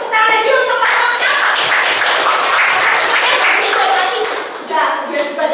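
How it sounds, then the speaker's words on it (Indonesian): Classmates in a classroom clap for a student group, a dense, sustained round of applause from many hands that stays steady throughout and swells again briefly near the end, with faint voices mixed in. "silakan kita teman boleh tepuk tangan lagi untuk kelompoknya"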